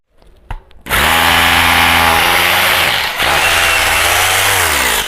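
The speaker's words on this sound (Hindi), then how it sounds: "मैं आपको एक बार और ड्रिल करके दिखाता हूं" A rotary hammer drill fitted with an 8 mm bit bores into a concrete pillar, starting after a brief clatter and running as a loud, steady, grinding whine with a short dip midway before carrying on.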